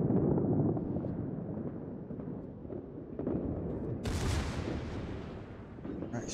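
Battleship secondary guns firing in a naval warfare game, with a steady rumble of booming shots and low explosions and a sharper, brighter blast partway through, close and continuous.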